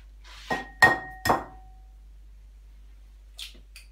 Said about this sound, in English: I'm now going to separate 4 eggs, egg yolks and egg whites separately in 2 different bowls.